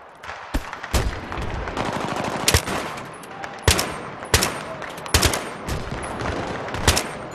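Gunfire in the video game Battlefield 3: sharp, loud shots and short bursts crack out at irregular intervals over a steady layer of background battle noise, with no talking.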